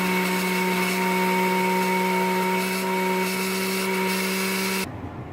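An electric kitchen grinder whirs loudly with a steady high-pitched motor hum as it blends coriander leaves, then cuts off abruptly near the end, leaving quiet.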